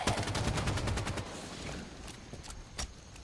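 Grenade explosions and gunfire in the video game Halo 5: Guardians, a dense burst of sharp blasts and rapid shots up front that thins out into scattered, quieter reports, with no talking.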